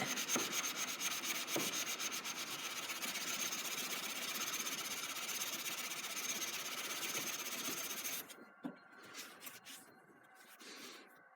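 Hand sanding a steel chef knife blade's ricasso with sandpaper: steady, close, rasping back-and-forth strokes for about eight seconds, then stopping, followed by a few faint scattered handling sounds.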